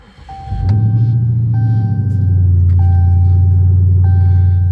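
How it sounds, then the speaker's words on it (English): A car engine cold-starts with a cranking burst, then settles into a loud, steady low idle, while a repeating electronic chime beeps in the cabin throughout. "Cold start."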